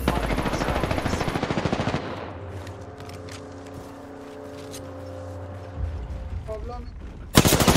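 Rapid automatic gunfire from the video game Apex Legends rattles loudly for the first couple of seconds, then fades into a low ambient hum with faint game effects and a sharp burst at the end.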